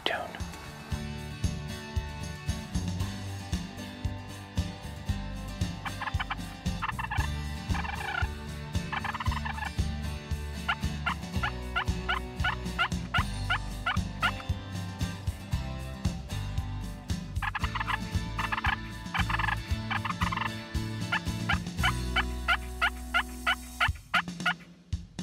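Wild turkeys gobble from a large group, repeated loud gobbles rising over background music and a speaking voice.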